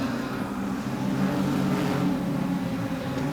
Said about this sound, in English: car firing and misfiring